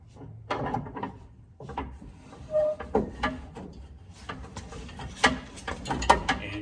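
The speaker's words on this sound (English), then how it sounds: "using your tire iron for leverage, turn it clockwise" A tire iron cranks a spare-tire winch under a vehicle, giving irregular mechanical clicks, clunks and ratcheting, fairly quiet and close.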